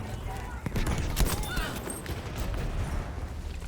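PPK pistol fired in rapid bursts during a Battlefield V match, quick sharp shots mixed with game battle noise and other gunfire throughout, with a voice talking over the action.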